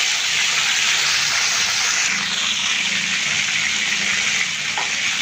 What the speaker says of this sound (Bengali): তো চিকেনটা আমি ভেজে নিলাম